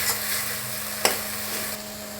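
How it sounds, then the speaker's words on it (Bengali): Poppy seed paste stirred into spices in a hot pan, a steady close sizzle of frying under scraping spoon strokes, with one sharp clack of the utensil midway. "এবারে আমি দিয়ে দেব পোস্ত বাটা, দিয়ে এটাকেও আমি মশলার সাথে ভালো করে মিক্স করে নেব"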